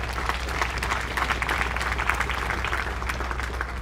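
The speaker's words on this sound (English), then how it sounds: "Give him a round of applause." A crowd at a State of the City event in Miami Gardens applauds the city clerk, a steady wash of many hands clapping at moderate loudness that holds evenly for several seconds with no talk over it.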